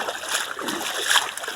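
The fast current of the Sankri River rushes and splashes between two hills as people wade across, a close, steady wash of water noise.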